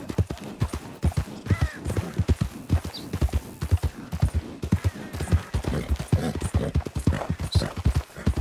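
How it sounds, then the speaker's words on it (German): Horses trot in Red Dead Redemption 2, a steady run of close, loud clip-clop hoofbeats on the ground that carries on throughout with no talk over it. "Okay, da sind nochmal Pferde."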